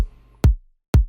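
Two punchy kick drum hits about half a second apart, without a sub-bass layer, tight and dry without a long, deep low-end tail.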